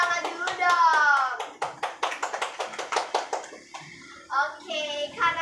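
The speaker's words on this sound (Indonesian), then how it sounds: "Tepuk tangan dulu dong." Children clapping together in a classroom, rhythmic hand claps in a quick series alongside a sung or chanted voice, ending as the beat stops and a voice resumes.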